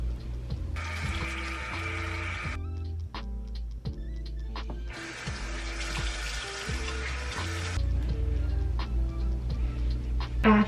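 Water splashes and runs while a face is washed after cleansing oil, two loud bursts of rushing water from a nearby tap with quieter dripping and handling noises between them.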